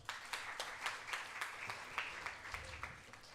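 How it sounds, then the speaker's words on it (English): Audience applause at an inaugural Youth Parliament event in Hyderabad, a quiet, steady patter of clapping heard from a distance and not very loud, with no voices over it. "please use a round of applause"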